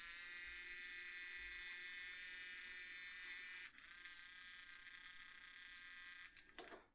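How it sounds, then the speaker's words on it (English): A small hobby servo motor, just reassembled with its gears, whines at a high pitch in a steady burst, then shifts to a slightly different buzzing tone before stopping; faint and close, with no speech. "Give the servo a quick test once you're done."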